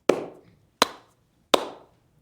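To close a Fijian village welcome ceremony, a chief claps his hands three times: three crisp, close, evenly spaced claps with short decays and quiet between them.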